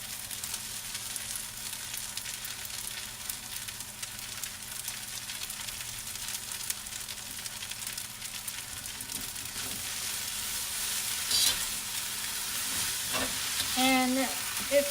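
Bok choy and green onions stir-frying in a pan with fried pho noodles give a steady, moderate sizzle that swells slightly louder toward the end, with a few stirring clinks and no talk.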